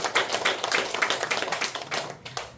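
A lecture audience claps together in a dense, continuous patter of many hands, fairly close and with no voices over it.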